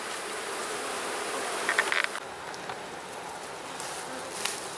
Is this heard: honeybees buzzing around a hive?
yes